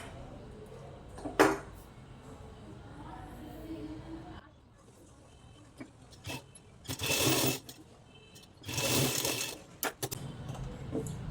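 A sewing machine stitches the front part of a blouse in two short, loud whirring runs separated by quiet handling and a few sharp clicks and taps.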